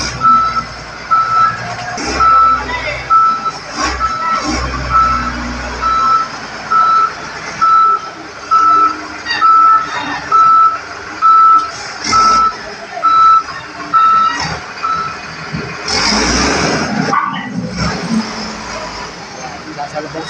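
A large garbage truck on a street sounds a steady string of reversing beeps, evenly spaced pulses over its engine rumble and surrounding traffic noise, with voices talking nearby.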